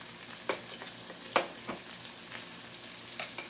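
Shrimp tossed with garlic powder and salt sizzle softly in a pan as a utensil stirs them, giving a few sharp scrapes and clicks over a steady low hiss.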